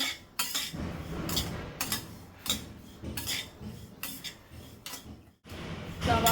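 A spatula repeatedly scrapes and knocks against a pan while a jackfruit mixture with turmeric dry-roasts, uneven rhythmic clatter and rasping strokes close by, briefly pausing before resuming, no voices.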